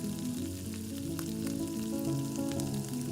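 Chicken biryani masala mixed with curd, coriander and mint sizzles steadily in a pan over a medium flame, a dense, continuous frying hiss with faint stirring scrapes, close and without talk.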